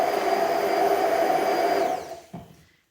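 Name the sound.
blender blending tomato and basil salad dressing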